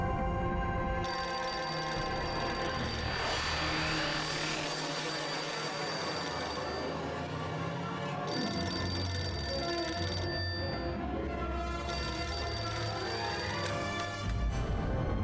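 A telephone bell rings in repeated bursts with short pauses between them, loud and close, in a Hindi TV drama scene with no talking over it.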